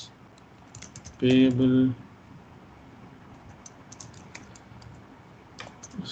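Typing on a computer keyboard while writing a cover letter: a brief, dense burst of rapid key clicks lasting under a second, then a few scattered faint taps, with a person talking around it.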